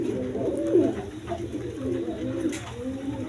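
A pair of black lace shirting pigeons coo close by in soft, rolling phrases that repeat through the stretch over a low background hum.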